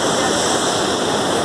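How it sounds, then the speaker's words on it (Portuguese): Steady, loud broadband roar of the Cachoeira de Santana waterfall in São Carlos, a continuous rushing wash of falling water with no pauses and no voices. "Estamos aqui na Cachoeira de Santana, em São Carlos."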